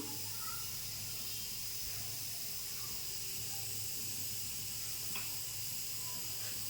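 Mustard oil heating in a wok on the stove gives a steady, even hiss and sizzle throughout, with a faint tick or two, and no talk.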